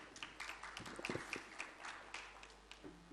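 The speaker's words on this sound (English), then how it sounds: "A big round of applause for her." Applause at a conference plenary session, fairly faint and thin, with scattered individual claps rising and falling, not a full roar.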